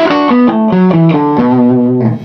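An electric guitar runs straight into an amplifier with no pedals, sounding loud and sustained with a slightly gritty, overdriven tone as a melodic line steps through several held notes.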